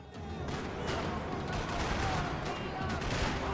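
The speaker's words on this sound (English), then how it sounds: "Another parking lot rattling with gunfire." Gunfire crackles in a Max Payne 3 shootout in a parking lot, bursts of rapid shots layered over a constant loud background clatter.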